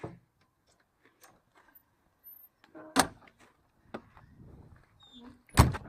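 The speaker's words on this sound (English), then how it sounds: "The door also has a screen door which you can release by flipping this lever and sliding that door." An RV screen door on a 1995 Rialta is released with a lever and slid, giving a few sharp clicks and knocks between quiet gaps and a brief sliding rumble.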